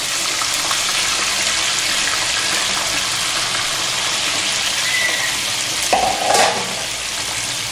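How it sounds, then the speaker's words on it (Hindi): Chicken fried and stirred with whole garam masala for Sindhi biryani makes a loud, constant sizzle close up, with a couple of brief clinks and a short squeak near the end, and no talking. "अभी हम ये चिकन डालेंगे और चिकन को अच्छे से भूनेंगे"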